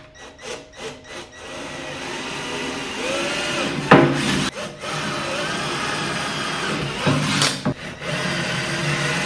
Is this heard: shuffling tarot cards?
no